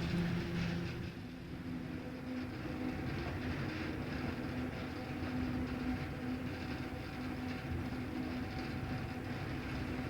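A Milwaukee Road electric freight train in the Rocky Mountains rumbles steadily along the rails with a continuous low roar and faint mechanical hum, close and sustained throughout.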